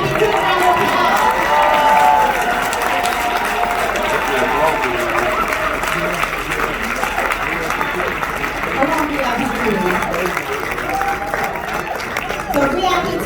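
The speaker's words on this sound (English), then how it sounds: "Can you give our VIP 2 a round of applause?" An audience in a Crowne Plaza conference room applauds steadily for a dense stretch, a continuous crowd clatter with scattered voices and cheers mixed in.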